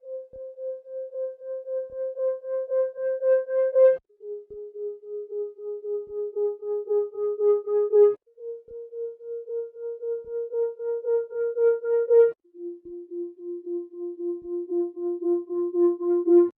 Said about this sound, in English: really cool little wavy sound to have in the melody